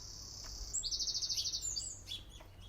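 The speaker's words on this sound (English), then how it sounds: "Birds are lovely out here this morning." Birdsong outdoors on a fine morning: a rapid run of bright, evenly spaced chirps near the middle, with scattered calls before and after over a low steady outdoor hum.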